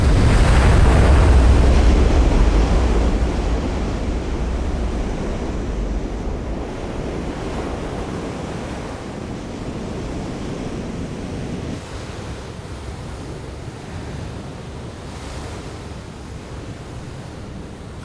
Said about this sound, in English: Just as he surfaces, another giant breaker comes crashing in.